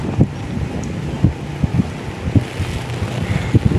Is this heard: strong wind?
yes